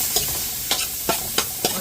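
Onion and crushed garlic sautéing in a pan for a shrimp and vegetable rice noodle stir-fry, a steady close sizzle broken by five sharp scraping stirs spaced through the clip.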